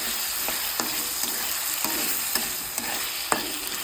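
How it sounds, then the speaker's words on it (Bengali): Potatoes with poppy seeds sizzle steadily in a pan, with periodic scrapes and clicks of stirring over the constant frying hiss. "এবার আলু পোস্তটা ভাজা হবে।"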